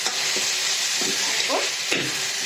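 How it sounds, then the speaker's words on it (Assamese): Chicken sizzles steadily in butter in a hot pan, with occasional scrapes and stirring clatter over the continuous frying hiss. "এতিয়া দেখিছেনে মোৰ চিকেন প্ৰায় ভাজা হৈ গৈছে"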